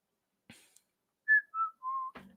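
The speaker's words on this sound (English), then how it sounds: "sorry, I know you hate the whistling" A person whistles a short descending tune of three clear tones in a quiet room, preceded by faint handling noise and followed by a small rustle, close and soft.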